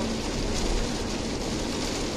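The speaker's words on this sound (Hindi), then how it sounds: "एकदम से बारिश चालू" Sudden rain after a dusty windstorm produces a steady, dense hiss of rainfall close by, filling the whole moment evenly with no talking.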